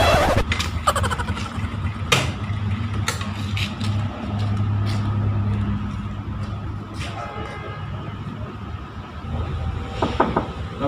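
Motorcycle engine running close by as it arrives in a village setting, a steady low rumble lasting several seconds with scattered knocks and clicks around it, people's voices faint in the background.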